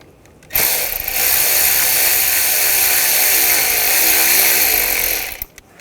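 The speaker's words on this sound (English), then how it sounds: "We're going to loosen up this worm clamp. Use a 7mm socket." A power ratchet or drill spins a 7mm socket to loosen a worm clamp on a 2009-2017 Volkswagen Tiguan 2.0L, one continuous close high-pitched whir of about five seconds that starts and stops abruptly.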